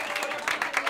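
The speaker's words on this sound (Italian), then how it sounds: "applauso a loro che sono arrivati" Crowd at a live stand-up comedy show applauding, a brief burst of clapping with some voices mixed in.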